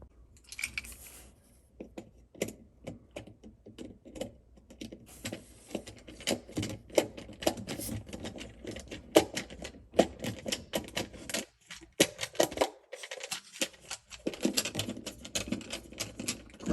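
Small screws being turned out of a plastic Go Control Linear Z-Wave Plus door and window sensor, a close, dense run of fast clicks and ratcheting ticks from a hand screwdriver with brief pauses.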